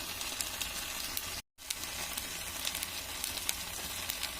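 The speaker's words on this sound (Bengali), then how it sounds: "কড়াই দিয়ে দিচ্ছি তেল, দিয়ে দিচ্ছি জিরে ফোড়ন।" Cumin seeds sizzling in hot oil in a wok, a close, steady crackling hiss with small pops, briefly interrupted then continuing.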